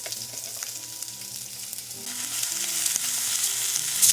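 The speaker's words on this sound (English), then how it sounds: "little drop of avocado oil, and add the peppers and onions" Peppers and onions frying in avocado oil in a pan, a steady broadband sizzle that swells louder partway through, with faint low tonal hum beneath and no voices.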